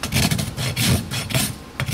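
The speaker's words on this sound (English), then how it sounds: "This rasp is very sharp." A sharp farrier's rasp files a horse's hoof in quick back-and-forth strokes, a close, coarse scraping rhythm of about four rough passes in two seconds.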